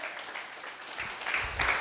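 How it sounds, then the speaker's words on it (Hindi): A church congregation claps in thanks to Jesus, heard as a soft, scattered patter of applause that swells toward the end, fairly quiet and slightly distant. "ताली बजा के यीशु को धन्यवाद बोलो"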